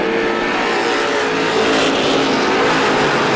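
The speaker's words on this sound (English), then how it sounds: "And Tom Tebow is way up the racetrack in car number 3 off the back straightaway." Stock race cars at Star Speedway roar loudly and continuously, engines screaming at high speed, with a rising pass as one car surges by.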